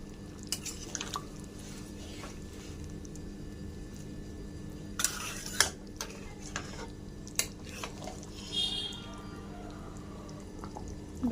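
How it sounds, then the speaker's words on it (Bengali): Chicken curry with fresh coriander leaves simmers in a home kitchen pot while a spoon stirs it now and then, making soft drips, gentle bubbling and a few light clinks against the pot, all quiet and close. "এবার সুন্দর ভালো করে মিলিয়ে নেব আরও দু মিনিট ফুটিয়ে নেব"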